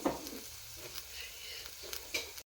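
Onion fries in a pan with a close, steady sizzle, broken by a few scrapes and stirs of a spoon before it cuts off abruptly.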